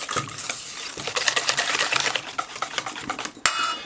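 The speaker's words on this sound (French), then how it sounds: "Allez, on mélange tout." Chocolate cake batter with melted chocolate and butter is stirred in a bowl, giving a continuous rapid scraping and clinking of the utensil against the bowl with no talking.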